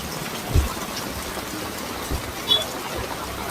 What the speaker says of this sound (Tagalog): Grabe guys, ang lakas ng ulan.